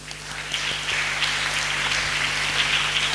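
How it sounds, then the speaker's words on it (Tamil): A church congregation at a special Easter-season Mass claps for visiting singers, a steady wash of many hands applauding together over a low hum, sustained throughout. "முதல்ல எல்லாரும் கைதட்டுங்க அவங்களுக்கு."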